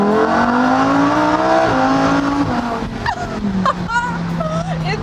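Lamborghini Huracán EVO launching hard, its engine screaming up through the gears with rising pitch and short dips at each shift, loud and close, with people talking over the roar.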